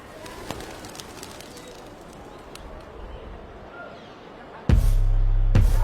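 Pigeons coo faintly on a Delhi rooftop during pigeon-flying, with soft calls over quiet outdoor ambience before a sudden loud, steady hum cuts in near the end.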